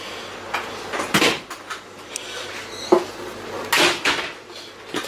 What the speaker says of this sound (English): Get these doors to close since we're not exactly level.